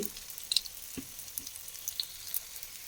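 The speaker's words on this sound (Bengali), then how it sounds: "গরম তেলের মধ্যে বসিয়ে দিয়ে ভেজে নিতে হবে।" A pumpkin-and-banana mughlai fries in hot oil with a steady soft sizzle, dotted with small pops and crackles, close and alone.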